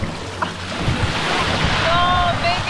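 Waves break and wash steadily at a clean beach on the Albanian Riviera, mixed with gusty wind buffeting the microphone and a brief faint whistle-like tone near the end.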